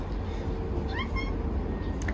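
A house cat underfoot, holding a toy and wanting to play during cross-stitch embroidery at home, gives a few short, soft meows in a quick cluster over a steady room hum.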